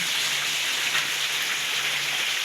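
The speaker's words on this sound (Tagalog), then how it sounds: "Maulan na naman dito sa probinsya mga kanyusin." Steady rain falling in the countryside on a rainy, cold morning, a dense even hiss of drops on surfaces, close and continuous with no break and no voices.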